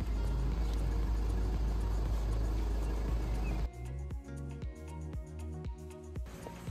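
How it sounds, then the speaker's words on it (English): VW Passat B6 2.0 TDI diesel engine idling, a steady low rumble that shifts partway through to a lower, rhythmic knocking chug with regular pulses. "I left the car idling for 15 minutes without revving the engine."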